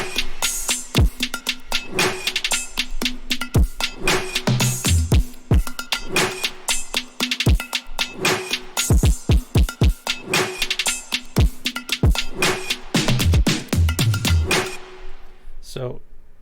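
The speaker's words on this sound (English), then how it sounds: "the backbone of the drop obviously is the drums," Electronic drums from a beat's drop, played by themselves: dense, punchy hits in a fast driving pattern with crisp high percussion layered over deep kicks, loud and continuous before cutting out near the end.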